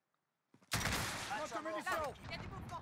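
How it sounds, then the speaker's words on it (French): A rocket launches with a sudden loud blast in Call of Duty multiplayer, a single burst that rolls into a sustained rumble while someone talks over it. "J'ai tiré une roquette au hasard, le mec est mort."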